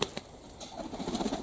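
Pigeons flap and take off over a pigeon loft, with a few soft wingbeat bursts and faint bird sounds over about a second and a half of quiet outdoor background.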